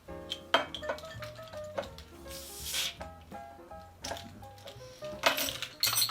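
A Left Hand Belgian White nitro beer can is cracked open, letting out short breathy hisses mixed with close clinks of glass and can handling, with no talking.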